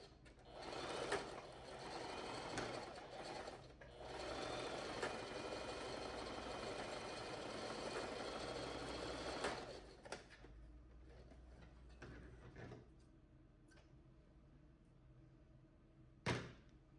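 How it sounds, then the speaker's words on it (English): A sewing machine runs a zigzag stitch through horsehair braid on a prom dress hem, whirring steadily for about ten seconds, then stopping, followed by quieter handling thumps and one sharp knock near the end. "Now we're switching to a zigzag stitch, and we're going to sew the horsehair"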